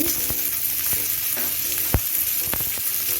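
Garlic stirred into onion frying in mustard oil in a nonstick pan, steady close sizzling broken by several sharp spatula knocks and scrapes against the pan, no voices.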